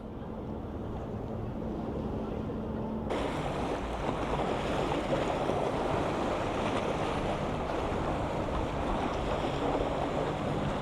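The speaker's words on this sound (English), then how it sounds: "I've made it to the beach, so you can see Blackpool Tower just behind me there, and then you've got the sea" Steady wash of sea surf on Blackpool beach with wind buffeting the microphone, the roar growing fuller partway through; no voices.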